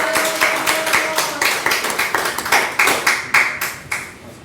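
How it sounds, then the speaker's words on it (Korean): A church prayer-meeting audience claps to welcome a university president to the front, a run of distinct, fairly loud hand claps that settle into a quicker, rhythmic beat, with faint murmuring underneath. "나오실 때 박수로 환영하시겠습니다."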